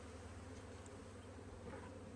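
Honey bees buzzing inside a beehive, a steady low droning hum that stays even and close throughout with no voices.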